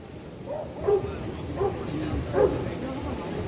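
A Cane Corso at a dog park lets out three short whimpering yips spaced about a second apart, moderately near, over low background noise and murmuring.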